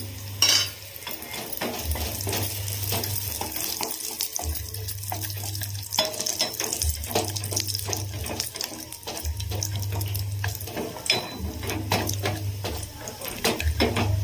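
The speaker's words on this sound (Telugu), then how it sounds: "నెయ్యి వేసుకొని అందులో కొన్ని బాదం పలుకులు వేసుకుంటున్నాను" Almond pieces fry in ghee for semiya kesari, giving a continuous close sizzle with scraping stirring and clinks, while a low periodic hum runs underneath throughout.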